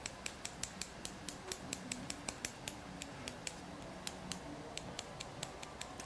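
Steady snipping of salon scissors cutting a customer's short hair, a rapid run of crisp metallic clicks at an irregular fast rhythm, close and quiet with no voices.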